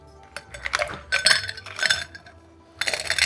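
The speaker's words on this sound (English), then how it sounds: "Whiskey has come straight from the freezer, and I'm measuring 2 ounces, 60 ml straight into the glass, and then filling it up with ice." Ice cubes clink and knock into a glass holding two ounces of freezer-chilled whiskey, a run of bright, close, irregular clinks in several clusters, separated by brief pauses, with no talk.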